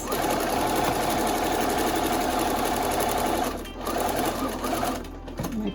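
A sewing machine stitching a fabric face mask runs steadily and close up, a continuous mechanical whir with a rapid needle rhythm that slows and stops near the end, restarting briefly.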